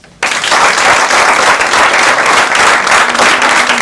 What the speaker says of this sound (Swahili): Wapi makofi yao?